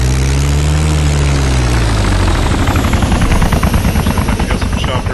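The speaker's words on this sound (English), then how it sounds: "We got some choppers buzzing overhead." Military helicopters in a video game airfield scene, loud continuous rotor and engine drone close overhead with a pulsing chop building toward the end, alone without talk.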